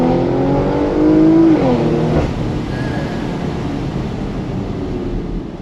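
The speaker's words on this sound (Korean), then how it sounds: "이 사운드적인 감성이 어떤 마칸 라인업 안에서도 가장 좋은 게 아닌가." A Porsche Macan GTS engine revs up while driving, a rising throaty note that peaks and falls back into steady road and wind roar.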